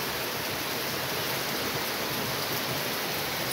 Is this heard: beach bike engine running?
no